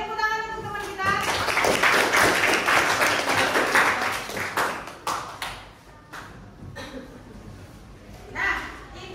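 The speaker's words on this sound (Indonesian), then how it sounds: "tepuk tangan untuk teman kita" A classroom group claps together for a fellow participant, a burst of applause lasting several seconds that thins into scattered claps, with a voice and other voices mixed in.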